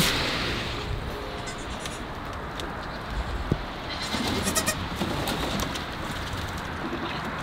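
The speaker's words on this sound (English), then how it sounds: "let's show everybody some goats" Goats bleat at a rescue zoo in Denmark over a steady outdoor hiss, with a few brief calls and birds chirping faintly in the background.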